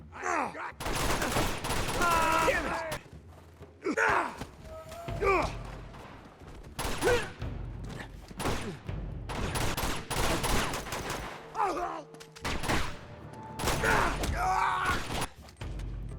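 Bursts of gunfire in Uncharted 2: Among Thieves as two distant snipers are shot, repeated loud volleys separated by short gaps, with game voices and effects between them.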